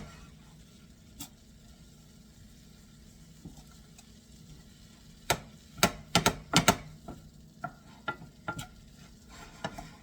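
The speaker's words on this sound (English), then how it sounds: "Just going to stir this for the fragrance, mixing it up while it's on the flame." Ingredients for Egyptian eggah with ground beef and spinach stirred in a pan over the flame, sharp clinks and scrapes of a utensil clustering midway over a faint background hiss.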